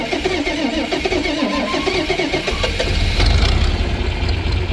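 A 1960s vehicle engine cranks and catches on a rainy day, starting a little hard before settling into a loud, rough running rumble close by, with no talk.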